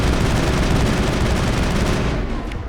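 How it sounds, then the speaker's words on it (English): Sustained assault rifle fire in the Mass Effect video game, a loud, dense stream of rapid shots that rolls on for several seconds before easing slightly near the end, with no talk. "Allows long bursts of accurate assault rifle fire."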